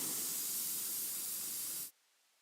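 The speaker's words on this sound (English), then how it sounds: "That's what the airbrush is really good for." An airbrush sprays paint onto an AT-AT model, a steady close-up hiss of air that holds for nearly two seconds and then cuts off abruptly.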